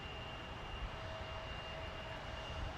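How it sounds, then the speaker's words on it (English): A FedEx MD-11 freighter taxis at the airport, its engines making a steady, distant jet rumble and whine with a faint constant tone, unbroken for the whole stretch. "FedEx 147 is taxiing"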